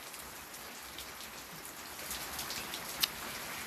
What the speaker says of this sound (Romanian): plouă cu piatră sau cu gheață, habar n-am.